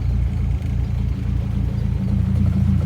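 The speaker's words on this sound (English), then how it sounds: "the hush power muffler with our exhaust really gives a nice sound" A 1975 Fiat Spider's exhaust through a Hush Power muffler burbles deep and steady, a low throaty idle with a rhythmic pulsing beat and no talking.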